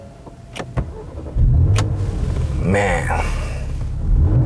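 A 2015 Porsche Macan S engine fires up with a sudden loud rumble, then settles into a deep idle broken by a quick rev swell; a man's short word comes just before the start.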